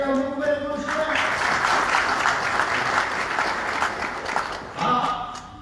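Audience applause fills the whole stretch at a Hindi spiritual discourse, dense steady clapping from a large crowd that swells again near the end, with no speech over it.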